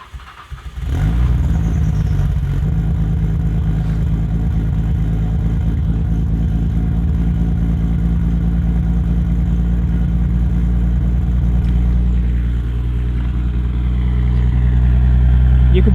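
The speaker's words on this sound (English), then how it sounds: "Let's start the car." A 530 hp Nissan Skyline R34 GTR with a single turbo conversion cranks and fires up outdoors on a windy day, then settles into a loud, deep, steady idle with a lumpy rumble that lifts slightly near the end.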